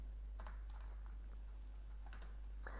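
Keys on a computer keyboard are tapped to press Ctrl-S, a handful of light, close clicks spread unevenly over a low steady hum.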